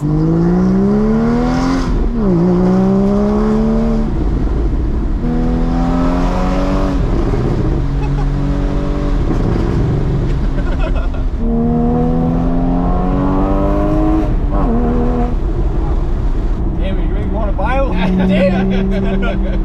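Porsche 981 Spyder accelerates hard through repeated gears, engine note climbing and dropping with each shift in a loud, close in-car drone, with people talking over it.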